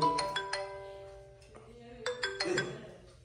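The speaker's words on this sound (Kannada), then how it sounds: "ಏನ್ ಸರ್ ಫೋನ್ ಬಡ್ಕೊಳ್ತಾ ಉಂಟು?" A mobile phone ringtone plays close by as a bright repeating melodic tone, broken by a short pause, with some talk in the background.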